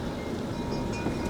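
Strong, cold wind roars through trees outdoors, a continuous broadband rush with gusting rumble and buffeting against the microphone, no voices.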